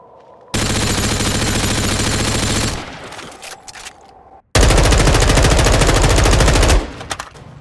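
Automatic gunfire from Call of Duty: Modern Warfare II, two long, dense, punchy bursts of rapid shots, loud and close, separated by a short lull with scattered clatter.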